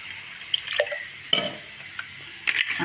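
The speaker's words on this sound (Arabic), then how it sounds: "دابا غادي نزيد الماء" Water pours and drips into blended avocado juice in a blender jar, with soft splashes and trickling bursts at irregular intervals, fairly close and moderately quiet, no talking.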